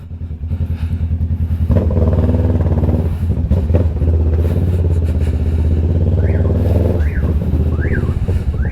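A Kawasaki Versys 650 motorcycle engine idles loudly close by, then revs and rumbles steadily, with a few rising whines as it pulls away.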